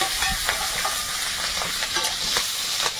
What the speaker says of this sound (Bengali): মধ্যে একটু পাঁচফোড়ন, কাঁচা লঙ্কা, পেঁয়াজ আর রসুন দিচ্ছি।